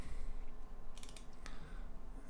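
Short run of typing on a computer keyboard, a few quick key clicks followed by a sharper keypress near the end, light and close against a low background hum.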